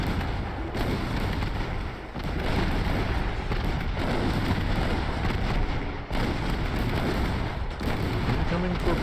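Warship main guns firing in a naval combat game, a loud, sustained barrage of heavy booms and rumbling blasts that barely lets up, with a few brief dips.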